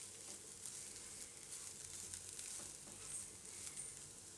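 Ground peanut powder roasts in hot oil for raw banana and peanut khichdi, giving a soft, steady sizzle with faint stirring, close but quiet and without talk.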